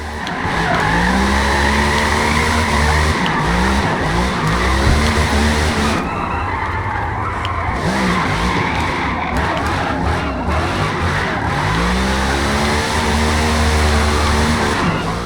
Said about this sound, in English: As you can tell, she drives straight. Absolutely straight. But then she drifts.